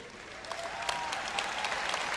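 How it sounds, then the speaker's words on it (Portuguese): A lone listener claps faintly in a sermon audience, giving a run of scattered, uneven claps against quiet room noise. "Só tem uma pessoa aplaudindo isso."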